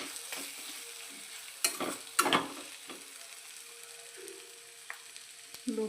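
A spoon stirs a sabudana khichdi mixture of crushed peanuts and potatoes in a pan, giving soft scraping and a faint sizzle. A few sharper clinks and scrapes stand out against the low, quiet background.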